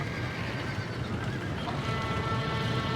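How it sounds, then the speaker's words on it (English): Horses whinny amid a dense, noisy din in Red Dead Redemption, with a neigh cutting through loud continuous background commotion in a game scene. "Somebody get them horses out!"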